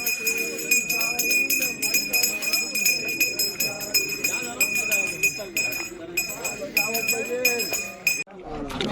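A hand bell rings repeatedly with a bright metallic clink during a pilgrimage palanquin procession, steady and close, beneath loud chanting voices and crowd noise.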